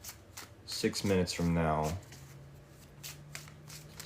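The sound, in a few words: shuffling cards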